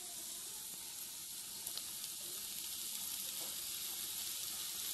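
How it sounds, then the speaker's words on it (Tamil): Eggs, masala and homemade noodles sizzle in hot oil in a pan, a steady close hiss and crackle running throughout with no talking. "நல்லா வதக்கி விட்டுக்கலாம்"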